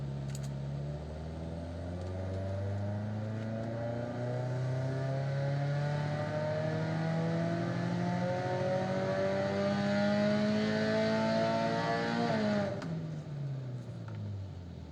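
A Subaru engine on a dyno during variable valve timing tuning revs in one long rising pull, its tone climbing steadily for about twelve seconds before it drops sharply off the top and winds down, loud and alone.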